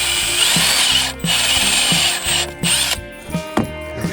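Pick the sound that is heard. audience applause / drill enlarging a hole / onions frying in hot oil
drill enlarging a hole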